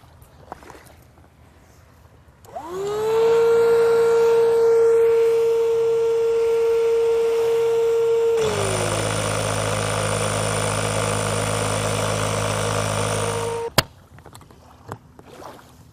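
An electric air pump drones steadily for about eleven seconds while inflating a Sea Eagle SailCat inflatable catamaran. Partway through, its tone shifts to a harsher, buzzier roar, then it cuts off abruptly.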